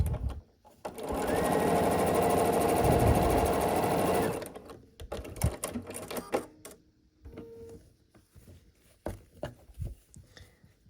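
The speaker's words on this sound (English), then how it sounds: "line this piece up across the bottom, and sew it on." A sewing machine stitches a pumpkin piece onto an autumn quilt block, one steady close whirring run of about three seconds, then quieter fabric handling and clicks.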